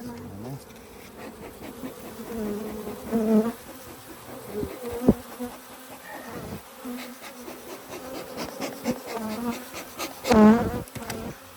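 Honey bees buzz busily around an open hive, a dense droning hum with individual bees whining past close to the microphone.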